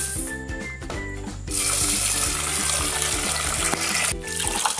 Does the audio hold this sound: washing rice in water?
yes